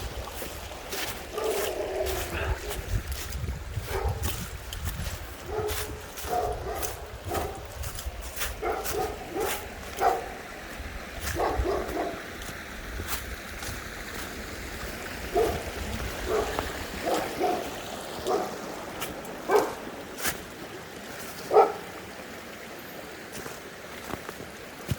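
A dog barks outdoors in a deep mountain valley in Taebaek, with repeated sharp barks spread irregularly across the clip over a steady background of trickling, flowing water.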